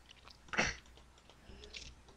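Chips are crunched close to the microphone, with one sharp loud crunch followed by softer chewing bites, quiet in the gaps and with no talking.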